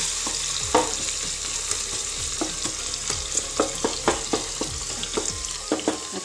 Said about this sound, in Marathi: आता छान परतून घ्यायचा कांदा